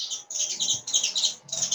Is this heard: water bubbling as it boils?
no